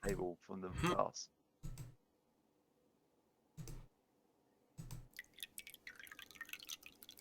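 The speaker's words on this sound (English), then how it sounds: "try pouring the water on the table from the glass." Water poured from a glass onto a table in a video game: after a brief burst of talk, a few sharp clicks sound, then a faint, irregular dripping and splashing trickle runs through the final two seconds.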